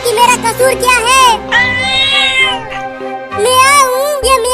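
Loud, close cat-like meows repeat in long drawn-out wails, several in a row with brief pauses, sounding like a voice imitating a cat in a comedy sketch.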